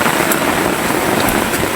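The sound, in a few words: rain falling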